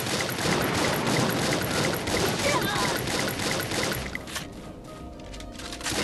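Rapid gunfire in the Free Fire video game, dense bursts of shots that pour out continuously before easing off, with a player's voice over the top.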